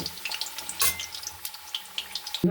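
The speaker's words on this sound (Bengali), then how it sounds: "আলু আর ফুলকপি একসাথে ভেজে নেব" Potato and cauliflower frying together in white oil in a kadai, a steady close sizzle with bright crackling pops and spits throughout, no talking.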